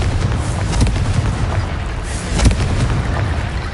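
In the video game Hogwarts Legacy, a Confringo blasting spell goes off in dense, booming explosive bursts, with several heavy thumps layered over a loud, rumbling background of game effects.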